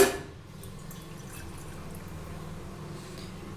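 Milk poured into a vessel to make turmeric milk, a soft steady liquid stream after a brief initial splash, close and quiet with no talk.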